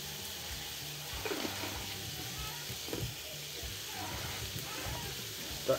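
Peppers and onions sizzle quietly on a Cuisinart Griddler, a soft steady crackle of frying with faint scraping and stirring sounds on top.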